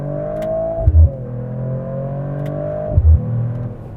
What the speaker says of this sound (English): let me just downshift this 9-speed auto